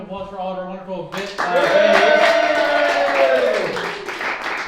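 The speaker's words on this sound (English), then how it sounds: "A round of applause for all of our wonderful bit." After a brief spoken line, an improv show audience at Highwire Improv bursts into loud, dense clapping with a sustained cheering whoop riding over it, fading as the applause winds down.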